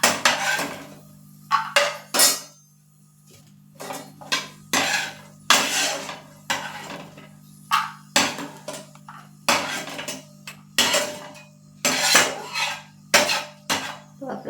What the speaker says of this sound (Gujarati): ચમચાની મદદથી નીકાળી લેશું